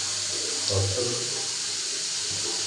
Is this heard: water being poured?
yes